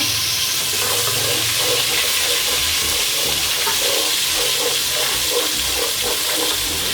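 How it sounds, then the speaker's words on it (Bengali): Spices frying in a pan for chicken biryani, a steady close sizzle that runs without a break and with no talk over it. "সামান্য পরিমাণের একটু আমি ভেজে নেব মশলাটা"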